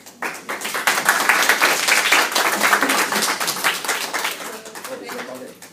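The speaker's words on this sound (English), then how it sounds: "Again, maybe another round of applause." Audience applause after a talk on self therapy, dense clapping that swells quickly, holds loud and steady for several seconds, then thins out toward the end.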